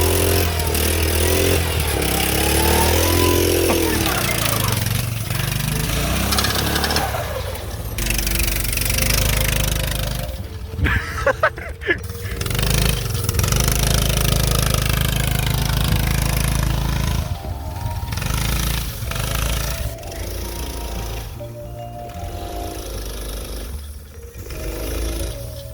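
A custom Arctic Cat minibike engine idles roughly and revs up and down, loud and close, running steadily throughout with brief throttle surges and dips.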